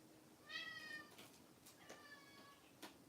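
A cat meows twice in a quiet indoor studio, two drawn-out tonal calls about a second apart, soft and fairly close against a low hum.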